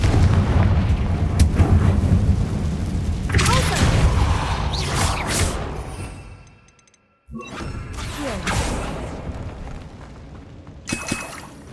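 Confringo blasting spell in the Hogwarts Legacy video game, heard as booming explosive blasts with whooshing bursts and rumbling, loud and close, followed by a brief drop to near silence before more impacts.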